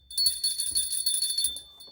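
A bright, high bell rings continuously for under two seconds, shimmering with sustained trilling tones, loud and close, with a few low thumps beneath it.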